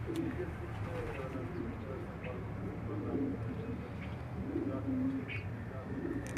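Racing pigeons at a loft in Quetta coo in low, rolling phrases that swell and fade across the clip, with several birds close by and a steady murmur of background activity underneath.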